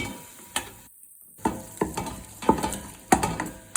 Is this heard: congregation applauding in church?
no